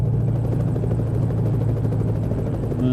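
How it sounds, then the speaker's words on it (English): In a VR trucking game, a helicopter flies overhead with a loud, continuous rotor chop and engine drone that holds steady throughout. "I hear that helicopter."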